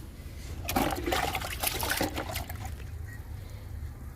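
Liquid fertilizer pours onto a potted hibiscus plant, a steady splashing gush of water that runs for a few seconds and then thins to a faint trickle.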